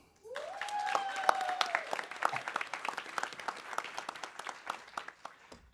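An audience applauds university leaders at an annual panel event: dense, steady clapping that starts abruptly and carries through to the end, with a few whoops rising briefly over the crowd near the beginning.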